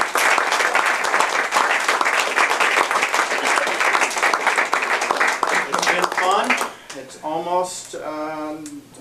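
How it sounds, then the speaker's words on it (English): An audience at a Toastmasters meeting applauds the contestants, steady dense clapping that fills most of the stretch before a voice begins talking near the end. "Let's thank all of our contestants with a great round of applause."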